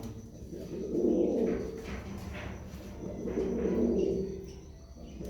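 Pigeons coo softly nearby, two slow rounds of low, throaty burbling calls rising and fading against a quiet background.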